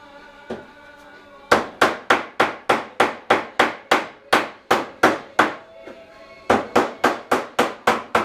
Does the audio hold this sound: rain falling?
no